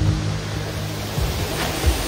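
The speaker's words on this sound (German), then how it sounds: "Wir haben den Gunas Wasserfall erreicht." The Grunas waterfall in Theth, Albania roars as a loud, steady broadband rush of falling water, heard up close and unbroken.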